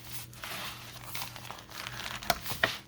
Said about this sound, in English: This is where I will use my bone folder.